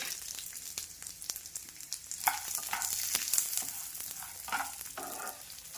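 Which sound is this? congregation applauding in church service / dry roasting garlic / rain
dry roasting garlic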